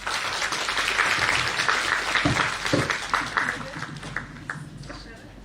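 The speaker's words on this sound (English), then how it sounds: "So definitely an applause for those who wanted to ask questions." Audience members at a business school induction programme applaud in a dense burst that gradually thins out, with a voice talking over part of the clapping.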